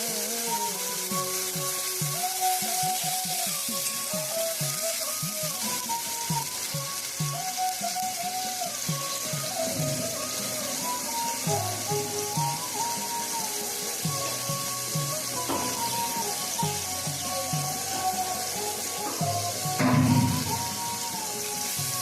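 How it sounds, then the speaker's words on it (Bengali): Leftover washing water pours into a pan of prawn malai curry cooking in oil and spice paste, giving a steady wet sizzle and bubbling throughout, with faint music behind it and a brief louder splash near the end. "বাকি ধোয়ার যে জলটা সেটা আমি দিয়ে দিচ্ছি আবার"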